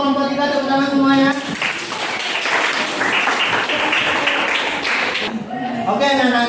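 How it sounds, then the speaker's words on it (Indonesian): Students in a classroom give group 3 a round of applause: a burst of clapping lasting several seconds. A voice speaks just before and after it. "terima kasih untuk kelompok 3, tepuk tangan semuanya"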